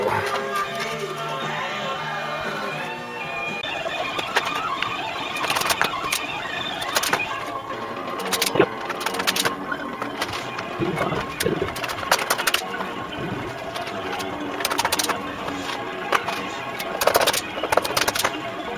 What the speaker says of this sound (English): So rivet gun time.